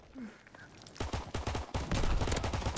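Rapid bursts of video game gunfire in an online gun-game match, starting faint and building into dense, loud volleys of repeated shots over the second half.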